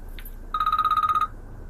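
A telephone gives a single short electronic ring, a rapid warbling trill lasting under a second against quiet background hiss.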